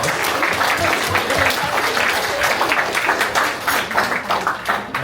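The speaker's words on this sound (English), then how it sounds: "So, round of applause." A wedding crowd of guests applauds in a steady, dense round of clapping that fills the whole stretch, fairly loud and close, with no words over it.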